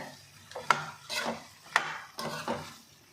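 Raw banana curry being stirred in a pan, with a few scraping strokes of a utensil against the pan bottom in an irregular rhythm, close and moderately loud, no voices.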